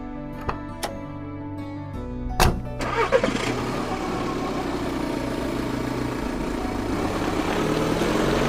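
A car engine cranks and catches after a few clicks and thumps, then settles into a steady, close idle that builds slightly in level.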